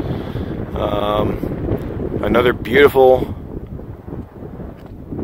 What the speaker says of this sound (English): It's a little windy here now